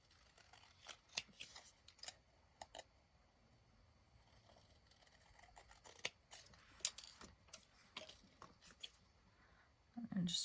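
Scissors trimming cardstock for a handmade house-warming card, giving soft, close snips in irregular clusters with short gaps, faint and without talk.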